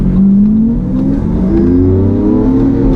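A Lamborghini Aventador on launch control holds a loud, sustained high rev, its engine tone drifting up and down steadily at close range with no pauses.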